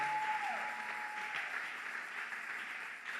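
A church congregation applauds for their pastor, a dense, sustained wash of clapping that holds steady for several seconds and fades slightly toward the end.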